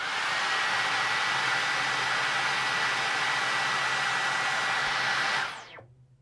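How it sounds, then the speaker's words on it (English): A Dyson V15 cordless vacuum on boost mode runs as a loud, steady, high-pitched rushing whine for about five seconds, then powers down and fades out quickly. "Here comes boost on the V15."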